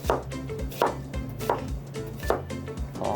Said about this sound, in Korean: 채 써는데 두께감 있는 채로 썰어 주시면 돼요